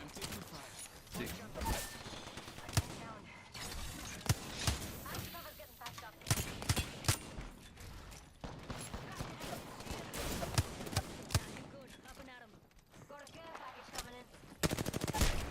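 Rapid gunfire in a shooter video game: dense automatic bursts and single shots crackle almost nonstop, loud and close, with brief lulls between volleys.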